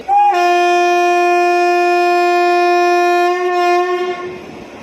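A diesel locomotive hauling a train on the Bodi–Madurai line lets out a single loud, sustained horn blast lasting about four seconds, close by, before the horn tapers off. No one speaks.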